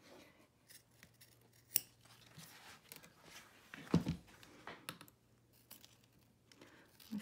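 Scissors cutting material for an in-the-hoop zip bag, a series of close, crisp snips and slicing sounds at irregular intervals, with soft rustling of the material in between.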